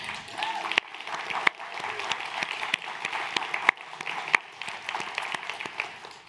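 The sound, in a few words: audience applause for staff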